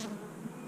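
Honey bees hum around an overwintered hive during an inspection, a brief, faint, steady drone close by with no voices.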